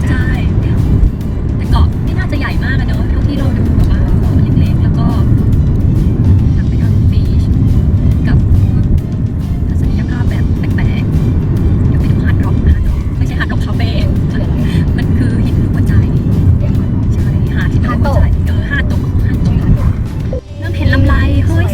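A car drives along an island road in Okinawa, giving a steady low rumble of engine and road noise from inside the cabin, with people talking throughout.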